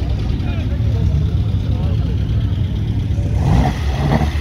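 A carburetted Opel Kadett engine revs nearby beside a road, a low rumbling drone that swells toward the end.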